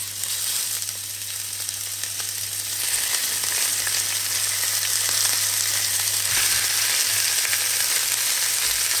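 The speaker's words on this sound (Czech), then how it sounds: "Takže takhle pěkně se to opejká, vidíte, už to má barvu." Skewers frying in oil in a hot pan, a loud steady hiss and crackle of sizzling that grows slightly stronger partway through, continuous and close with no speech.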